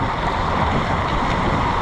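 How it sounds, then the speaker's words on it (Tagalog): Strong sea waves churning near a boat, a loud, continuous wash of surf and wind noise across the whole stretch with no voices. "Lakas ng alon mga kabayan."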